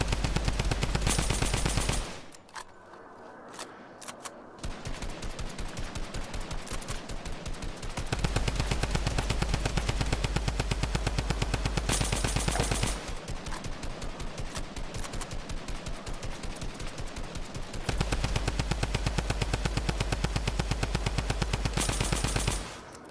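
Fortnite gunfire in a Reload duos match, long rapid bursts of automatic fire rattling in close succession, loud and near, broken by short pauses between volleys, with no talk over it.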